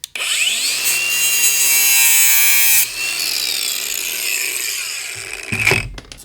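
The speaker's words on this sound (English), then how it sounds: "the easiest way is actually with the angle grinder" An angle grinder cutting through a Bowden cable gives a loud, steady high-pitched whining grind for several seconds, the tone shifting as it bites, then spinning down near the end with a brief clatter.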